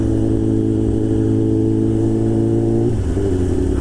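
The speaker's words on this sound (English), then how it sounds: "Chrysler 300." A Chrysler 300 car engine drones loudly and steadily as the car drives by close, its pitch dropping near the end as it passes.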